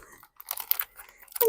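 A plastic powder packet is bitten open, producing a few short, close crunching and crinkling bursts separated by brief silences, ending in a sharper tearing snap.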